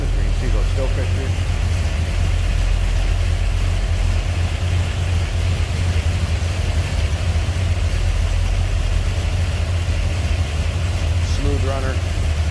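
A 1970 Chevrolet Corvette LT1 convertible idles smoothly and steadily, with a deep, even rumble that holds for the whole stretch. Faint voices come through briefly near the start and the end.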